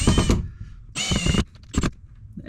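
A power drill with a 3/32 drill bit, used while installing a magnetic door stop, whirs in three short bursts, loud and close, with pauses between.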